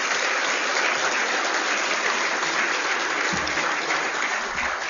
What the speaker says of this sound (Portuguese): Eu peço um aplauso a todos, por favor.